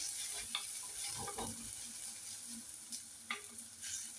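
Food sautés in a pan with a faint, steady sizzle and a few soft stirring scrapes, heard alone with no talking.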